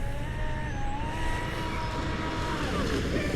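A Proboat Sonicwake 48 RC speedboat on 12S power runs at full throttle, its motor a loud, steady high-pitched whine with slightly shifting pitch over the rush of water.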